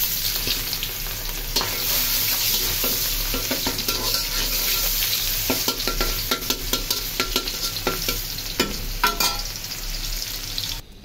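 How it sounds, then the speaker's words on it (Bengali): Eggs frying in a pan, a loud, steady crackling sizzle with frequent spatula scrapes and taps, growing more clattery toward the end. "এই যে ডিমগুলা ভেজে ফেলছি"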